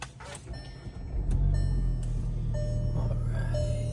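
A 2018 Volkswagen GTI engine cranks and catches, its idle rising to a steady, loud low rumble that holds for several seconds, heard close up with a few faint electronic chimes over it.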